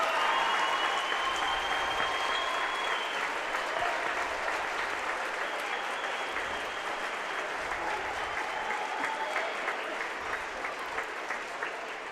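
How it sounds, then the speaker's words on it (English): Steady applause from a large crowd at a high school varsity boys basketball game, sustained and fairly loud throughout, gradually tapering slightly toward the end. "Let's give Chris a round of applause."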